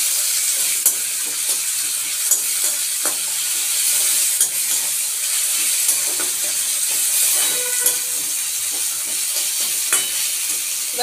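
Chopped tomato and a ripe chili frying in a pan while an egg yolk curry is cooked, a loud steady sizzle and hiss with occasional stirring scrapes, close up and without talk.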